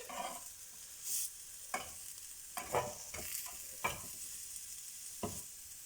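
Steady sizzling and crackling of food frying in a pan, with occasional louder spits and pops, close up and without talk.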